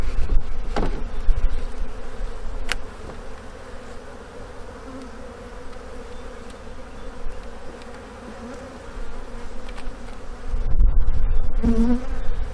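Honeybees drone steadily around an open beehive early in the season, with a constant close buzz that swells near the end and a few brief louder passes.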